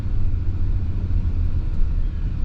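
A 2024 Nissan Pathfinder Platinum 4x4 drives down the road, heard from inside as a steady, loud low rumble of road and engine noise with no talking.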